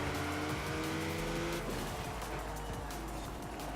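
A Mitsubishi Evo X racing in Forza Horizon 4, its engine droning loud and steady while tires squeal through understeering corners, with no speech over it.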